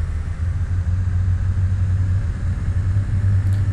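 A small aircraft's engine in Flight Simulator X runs as a steady, loud low rumble and drone as the throttle is eased up on the runway, continuous and without talk.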